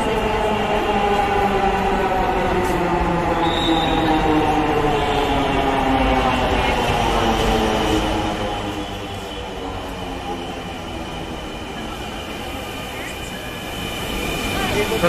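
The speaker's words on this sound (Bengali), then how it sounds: "সন্ধ্যাবেলা ট্রেন চলে এসেছে" Evening Dhaka metro rail train pulling into Pallabi station, a loud, close rumble with rising and falling electric motor whine that eases as it slows, amid platform noise.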